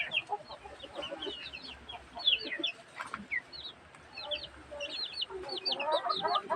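Backyard chickens cluck in short, scattered bursts, some near and some farther off, with a faint low hum underneath.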